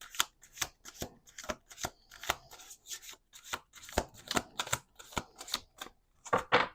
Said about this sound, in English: All right, let's do 2 more shuffles.